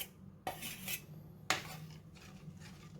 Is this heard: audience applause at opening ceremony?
no